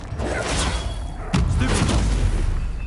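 In Hogwarts Legacy on PlayStation 5, an Incendio fire spell goes off with a loud, close whooshing boom partway through, rising out of dense, continuous rumbling combat noise.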